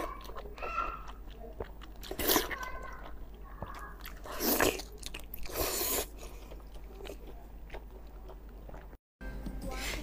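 Close-up eating of spicy Chinese blood sausage in a mukbang setting, with wet crunchy bites and squishy chewing recurring in several loud bursts between quieter mouth sounds.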